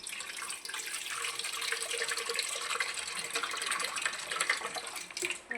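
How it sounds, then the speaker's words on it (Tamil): Water pours steadily into an idli steamer pot, a continuous bright splashing and gurgling stream close to the microphone with no voices over it. "இப்போ நம்ம அந்த இட்லி உண்டான பாத்திரத்தில் நம்ம தேவையான அளவுக்கு தண்ணி ஊற்றிடலாம்."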